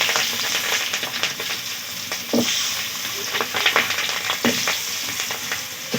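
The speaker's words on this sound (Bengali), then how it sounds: "পেঁয়াজগুলোকে একটু ভাজা ভাজা করে নেব।" Whole onions frying in hot oil in a pan with dried chillies and cumin seeds, a loud, continuous sizzle broken by stirring scrapes and bursts of spitting, close up and without talk.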